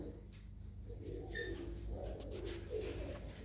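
Pigeons kept in a loft coo repeatedly in soft, low rolling calls, close by over a steady background hum.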